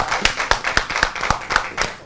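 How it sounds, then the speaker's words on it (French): Audience clapping in unison at a live stage show, about eight sharp, evenly spaced claps in quick rhythm, fairly close and loud. "Je demande au public d'applaudir. Applaudissez, applaudissez."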